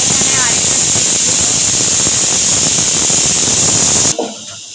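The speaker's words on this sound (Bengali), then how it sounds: "পরিমাণ মতন পেঁয়াজ কুচি আমরা ভাজা ভাজা করবো" Chopped onions fry in oil for kacchi biryani, giving a loud, steady, dense sizzle that runs unbroken for about four seconds before cutting off abruptly.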